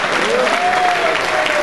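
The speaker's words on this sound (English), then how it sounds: "Clap your hands for T." Dense, continuous crowd applause fills the room at a beat battle finals winner announcement, loud and steady, with a voice faintly audible beneath it.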